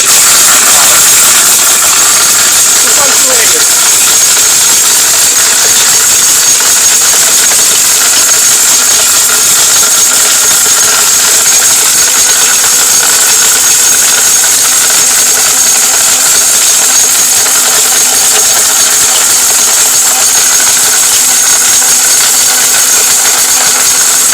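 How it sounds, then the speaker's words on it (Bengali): A Miyako electric blender runs steadily at full speed, a loud continuous motor whine with a high buzzing edge that holds unbroken throughout, without pauses or changes in pitch. "ভাই তুফান ব্লেন্ডার এটা তুফান একদম ঘূর্ণিঝড় চলতেছে ভিতরে"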